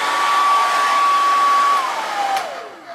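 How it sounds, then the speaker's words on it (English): A hair dryer running off a Bluetti AC2A solar generator whines with a steady, loud blowing hum, then its pitch sags and winds down near the end as the unit is overloaded. "you're on travel and you have a need to use a hairdryer"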